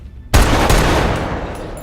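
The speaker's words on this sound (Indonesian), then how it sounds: "Connor mengingkari janjinya dan malah menembak Moreno" A single loud gunshot goes off in a heist movie scene after a vault is opened, a sharp close blast that leaves a long, rumbling tail.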